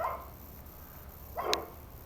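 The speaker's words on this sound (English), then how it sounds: "2 dogs." Two dogs at a duplex side yard give a couple of distant barks, one at the start and another about a second and a half later, faint over steady outdoor background noise.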